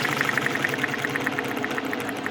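A small Kerzel engine with a governor running at low RPM, giving a steady rapid ticking beat over a continuous mechanical hum, close and fairly loud with no talk.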